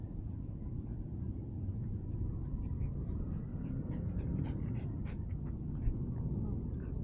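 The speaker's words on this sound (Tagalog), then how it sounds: "hinihingal na itong asong to hinihingal na" A dog pants rapidly and steadily outdoors after a walk, the breathing close but blended into a constant broad background rumble, with no talking over it.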